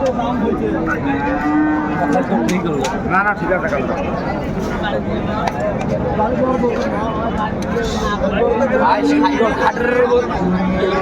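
Sahiwal bulls mooing at a busy livestock market in Dinajpur, repeated loud lowing calls over a constant babble of people talking nearby.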